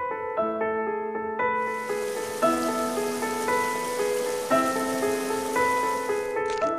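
A night of rain and wind in an animated folktale film gives a steady, even hiss of rainfall under gentle, plucked musical notes that play throughout.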